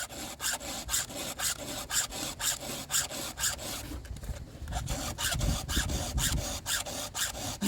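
A hand file rasps across chainsaw teeth in quick, even strokes, a steady rhythmic scraping of metal on metal, close and clear with a brief pause midway.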